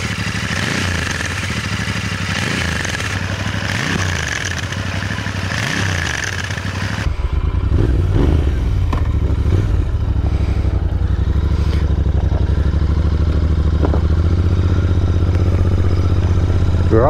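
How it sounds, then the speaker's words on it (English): Royal Enfield Interceptor 650 twin on its stock exhaust, idling with a steady low thrum and a few blips of the throttle early on, then settling into an even, close rumble. "For the stock exhaust, these sound nice."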